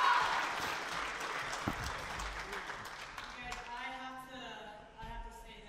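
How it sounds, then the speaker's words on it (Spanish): A church congregation claps loudly at first, and the applause gradually thins and fades while voices rise and talk over the tail end. "Un aplauso, sí, sí, sí."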